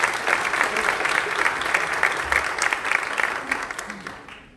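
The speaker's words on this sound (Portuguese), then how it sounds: "Por gentileza, uma salva de palmas para o Carlos." A crowd applauds a speaker at a personal finance talk with brisk, full clapping close by that slowly thins and fades over about four seconds.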